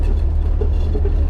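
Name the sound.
BMW 3 Series car driving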